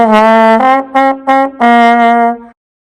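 A trombone plays a few sustained low notes, one after another with short breaks, then holds a longer tone before stopping.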